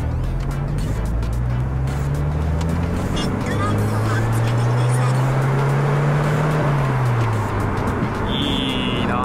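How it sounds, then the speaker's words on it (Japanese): A Lotus Elise with its mid-mounted engine is driven onto an urban expressway, its exhaust a loud, continuous low drone heard from inside the cabin, rising and falling in pitch as the car accelerates. "いきなり排気音からですね。"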